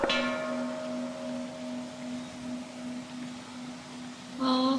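A bell struck in a Haenam garden rings out with a sustained, slowly decaying tone that fills the clip, and a second strike sounds near the end, close and clear over soft wind.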